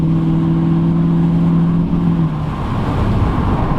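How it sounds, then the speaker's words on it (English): A Lexus SC430 engine revs as the car accelerates, a loud close drone that climbs in pitch before settling into a rougher, steady roar with road noise. No one speaks over it. "It's funny when it revs like that, but it's also not a Honda Civic. It's a luxurious LEXUS SC430."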